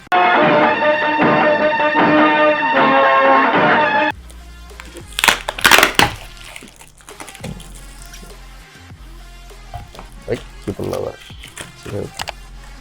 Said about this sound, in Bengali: ঠিক আছে, বক্সটা খুললাম।